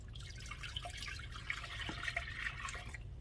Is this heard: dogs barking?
no